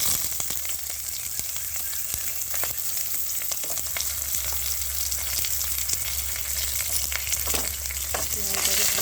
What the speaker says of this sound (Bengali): এবার দিয়ে দেবো পেঁয়াজ লঙ্কা কুচোনো।